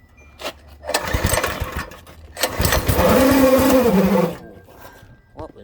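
A Predator 212 small engine on a Baja Doodlebug minibike, choke set to start, is pull-started and catches, running loud and close for a few seconds before cutting out abruptly, with brief rustling around it.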